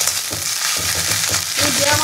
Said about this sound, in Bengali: এবার পাতাটাকে কিন্তু খুব ভালো করে ভেজে নেবো